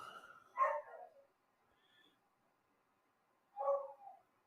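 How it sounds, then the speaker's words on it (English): A dog indoors gives two short bark-like yips a few seconds apart, moderately loud against an otherwise quiet room. "Oh, there's my doggy."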